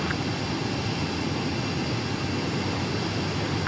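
Jet fighter approaching a runway in the Ace Combat 7 video game, a constant loud roar of engine and wind filling the whole stretch without a break.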